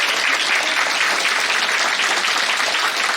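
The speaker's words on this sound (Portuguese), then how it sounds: "Pode fazer uma salva de palmas para Maria." Audience at a rural producers' evening event breaking into sustained, dense clapping, loud and close, with no voices standing out.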